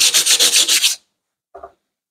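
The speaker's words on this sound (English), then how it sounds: "So I'm going to get some sandpaper now and just see if I can sand those lumps out and at the top" Sandpaper scrubs rust lumps off an old guillotine blade in a quick run of about eight rhythmic, close, raspy strokes, followed by a pause and one short final rub.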